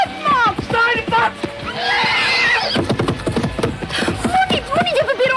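A horse neighs loudly and shrilly at close range amid frantic action, with hoof clatter and wooden knocks and shouting voices around it.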